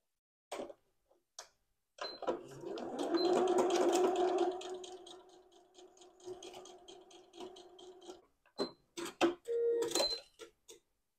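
Sewing machine stitching the shoulder seams of a blouse during a lace-overlay yoke refashion: a steady mechanical run of about six seconds, with short clicks and taps before and after it.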